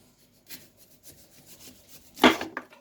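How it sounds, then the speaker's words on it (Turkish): A knife slices the ends off a melon, giving a few scraping, rasping cuts, the strongest and loudest stroke near the end; no one speaks. "Öncelikli olarak kavunlarımın şu uç kısımlarını kesiyorum."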